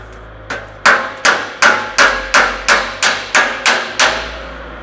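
A hammer taps a metal patch panel into alignment on a Jaguar E-Type body for TIG welding: nine sharp, evenly spaced strikes with a bright metallic ring, close and loud, and no talking.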